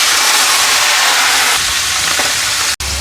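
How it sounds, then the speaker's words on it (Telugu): Green chillies fry in hot oil with a loud, steady sizzling hiss, close up and continuous, briefly cut by a short dropout near the end. "ఇప్పుడు పచ్చిమిర్చిలు వేయించుకోవాలండి మనము"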